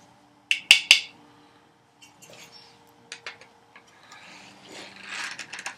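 A wrench snugs down the clamp on a plane iron at a workbench while the blade is set, giving a few sharp ratcheting clicks early on, then softer scattered mechanical ticks and scrapes close by.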